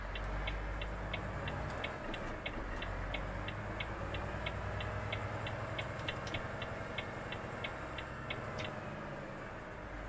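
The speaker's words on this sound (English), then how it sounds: "So the gear sounds are still there." Gear-shifting in a big rig in Euro Truck Simulator 2, a steady run of evenly spaced clicks over a low, continuous engine rumble and road noise, with a few brighter ticks standing out.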